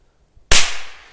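A Dum Bum Black Pirat K0203BP firecracker goes off in one sharp, loud bang after a brief quiet fuse moment, followed by a crackling, hissing decay that trails away over the next half second.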